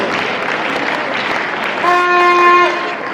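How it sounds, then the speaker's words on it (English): Applause from an audience at a leadership summit, steady clapping for a few seconds, then joined by a sustained tonal sound resembling a horn near the end. "Please, a big round of applause for His Excellency."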